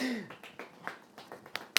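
A few soft, scattered polite golf claps, spaced unevenly and fairly quiet, with a brief tonal sound at the very start.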